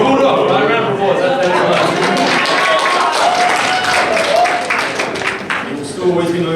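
Audience at an academy awards night gives a round of applause, loud close clapping with cheering and chatter layered through it, easing slightly toward the end.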